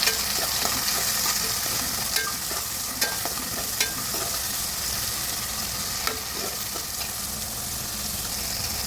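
Tomatoes for kurma sauté in a pan with a steady, loud sizzle and frying hiss, broken by a few soft clicks of stirring.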